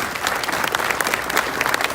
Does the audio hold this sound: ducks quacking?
no